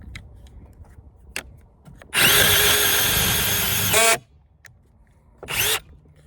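A Metabo HPT 18-volt cordless impact driver/drill running outdoors near a picnic table: a loud whirring burst of about two seconds, with short clicks before and a shorter second burst afterward.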